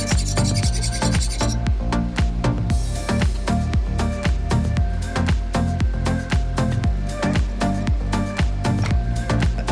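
Steady back-and-forth rasping of a file across an axe blade, each stroke loud and close in a fast regular rhythm, with no talking.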